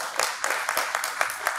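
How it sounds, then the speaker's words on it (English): Audience at a masterclass event applauds the participants, a short burst of distinct, fairly close hand claps in an uneven rhythm lasting under two seconds. "a huge round of applause to all the participants"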